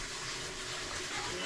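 Water rushing from a shower head fed by a newly laid water line, a steady broadband hiss running continuously at close range with no talk over it.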